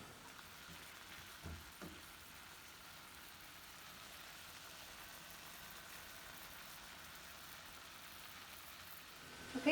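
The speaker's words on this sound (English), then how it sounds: "while we wait for these to cook up, I'm just going to cook them about halfway through and then flip them" Shrimp frying in a saucepan give off a soft, steady sizzle that stays fairly quiet throughout, with a couple of faint knocks early on and a louder clatter right at the end.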